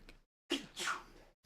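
A sharp sneeze bursts out, then a second, longer one follows right after, both close and loud in an otherwise quiet moment.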